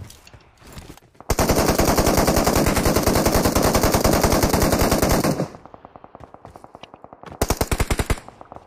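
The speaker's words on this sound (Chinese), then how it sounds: "被别人打了" Video game gunfire: a long, loud burst of rapid machine-gun fire that fades into quieter repeated shots, then ends with a short final burst, with no talking.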